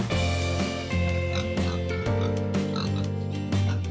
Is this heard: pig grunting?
yes